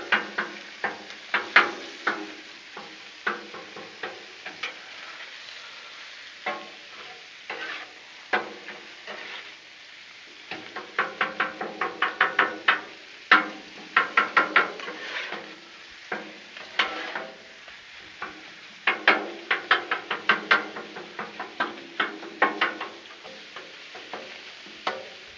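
Steady, rhythmic metal spatula strikes chop sausage on a Blackstone flat-top griddle over a low, soft sizzle, the scraping taps coming in irregular bursts up close with no talking.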